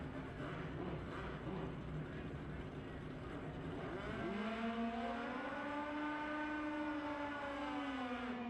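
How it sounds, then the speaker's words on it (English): A high-revving drag racing motorcycle at a Fuel Tech World Finals race winds up sharply, with its engine note climbing steadily in pitch and holding at high RPM, loud and continuous, from an outdoor track. "Ashley's bike comes right up in the RPMs."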